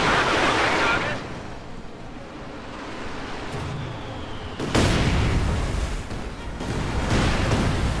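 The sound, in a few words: Katyusha rocket barrage in Company of Heroes 2 video game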